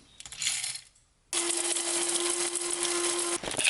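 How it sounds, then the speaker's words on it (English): A few ice cubes clatter into a cup for a chocolate protein shake, a quick rattling burst, then a steady hum with a sustained tone, ending in more clinks. "So I put like a few ice cubes in here."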